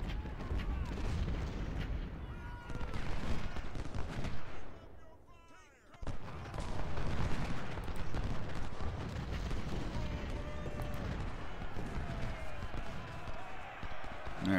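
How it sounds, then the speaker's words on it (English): Cannon fire from 20-pounder artillery in the Civil War strategy game Ultimate General: Civil War, repeated booming shots mixed with battle noise and gunfire, fairly loud and continuous, with someone talking over parts of it. "Now, I want you 20 pounders firing on those guns."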